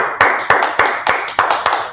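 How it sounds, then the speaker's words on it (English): A small group claps in a steady rhythm, seven sharp loud bursts spaced evenly about every third of a second, close and clear, during a Tuesday Bible brotherhood class with no talking over it. "Let's clap it up."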